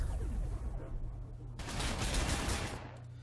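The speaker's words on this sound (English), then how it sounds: "Let's start shooting this bastard." Sustained gunfire in the Warhammer 40,000: Sanctus Reach video game, a dense crackle of shots that thickens into a heavier, brighter volley partway through, steady and close with no talk.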